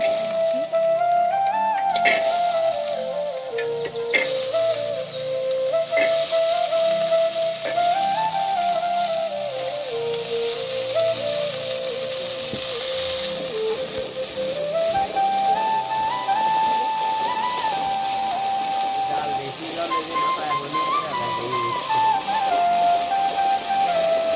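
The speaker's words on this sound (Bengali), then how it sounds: "এগুলো আমি এখন ভাজবো ভর্তা করবো" Small eggplants fry in a pan with a steady, broadband sizzle that runs unbroken throughout, while a wavering whistle-like tone sits over it.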